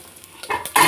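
Mustard seeds, cumin and garlic hit hot oil with a loud, building sizzle that jumps twice in sharp surges, close and unaccompanied by talk.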